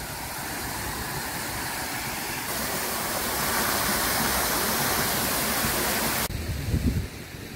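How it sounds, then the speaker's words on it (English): Waterfall called Shalala in Alanya, Turkey, heard as a steady, loud broadband rush of falling water that holds for several seconds and then drops slightly quieter near the end. "Waterfall."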